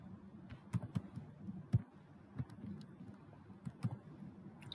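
Sparse keystrokes tapped on a computer keyboard while typing Python code, a handful of quiet, irregular clicks over low room hum.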